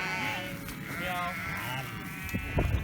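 Sheep bleating close by during a hike on a countryside trail, several wavering calls in quick succession with people talking over and between them.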